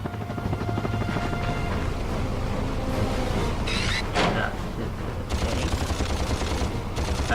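Gunfire from a weapon in the video game Ratchet & Clank on PS3, continuous rapid bursts with a whirring, droning layer throughout, loud and dense with no talk.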